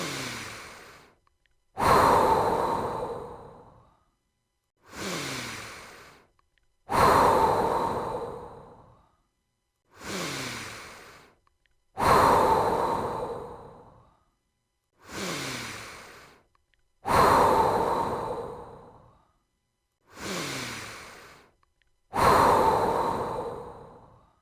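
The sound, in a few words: deep breathing in and out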